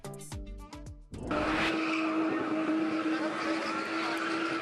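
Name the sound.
car spinning in tight circles, tires squealing, South African spinning sport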